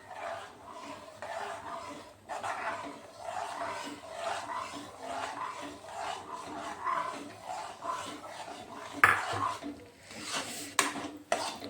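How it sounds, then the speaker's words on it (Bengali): Semolina being stirred in a pan for a Bengali sweet: soft, repeated scraping strokes of a utensil against the pan at a steady rhythm, fairly quiet and close, with a couple of sharper clinks near the end. "এইভাবে লাড়তে থাকবো আর আস্তে আস্তে করে সুজি দিতে থাকবো"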